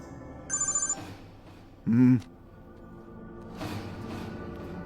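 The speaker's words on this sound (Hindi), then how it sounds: "धनराज को फोन करते हैं।" A telephone rings once in a short trilling burst, followed by a brief thud and quiet room noise.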